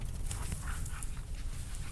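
Dogs playing outdoors in snow during a Texas snowstorm, with steady low rumbling noise and a few faint yips and scuffles scattered across the two seconds.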